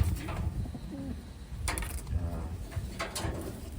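Pigeons cooing close by in a loft, soft repeated throaty coos with some wing and cage rustling and a faint voice in the background.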